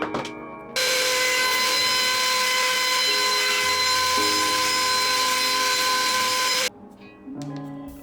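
A power saw cutting wooden table legs to size: a loud steady whine for about six seconds, pitch shifting as the blade bites, then spinning down and quieter tool noise.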